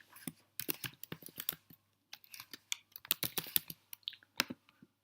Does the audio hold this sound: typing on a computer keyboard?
yes